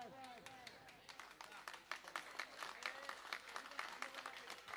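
A crowd at a mega finale clapping and cheering for Atul Chaugule Mitra Mandal, with dense rapid applause rising after a brief voice at the start.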